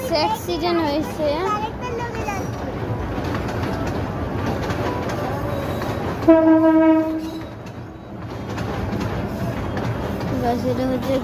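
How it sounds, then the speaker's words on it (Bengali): A train passes a level crossing with a continuous rolling rumble and gives one loud horn blast partway through, while people talk nearby and birds call in the background. "ওই যে গাইস ট্রেনটা ওদিক দিয়ে গেছে গা"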